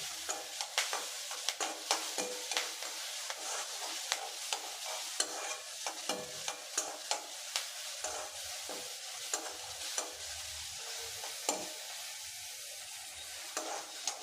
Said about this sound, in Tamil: அதிலே கொஞ்சமாக கருவேப்பிலை போட்டு எல்லாத்தையும் சேர்த்து நல்லா வதக்கி விட்டுடலாம்.